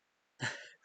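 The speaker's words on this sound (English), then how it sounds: "I just have to sneeze." A single short, sharp human sneeze bursts out close and fairly loud after a moment of near silence, then trails off quickly.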